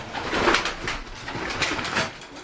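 A homing pigeon coos in soft, repeated low warbling phrases, close and steady, over a constant background hiss, with no talking.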